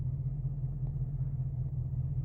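A Chrysler 300C Hemi V8 idles a few minutes after a cold start, giving a low, even rumble that holds steady and fairly quiet throughout.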